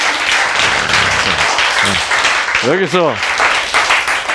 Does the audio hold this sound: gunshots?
no